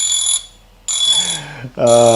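An on-screen timer alarm sounds three times in loud electronic beeps, each burst broken by short gaps, with a faint low tone in between.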